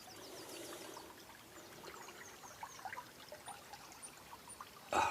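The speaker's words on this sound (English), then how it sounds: "listen to the trickle of that water as it goes past" Water trickles steadily past a floating home while a boat passes nearby, a soft continuous flowing wash with faint bird chirps over it and a brief louder splash at the end.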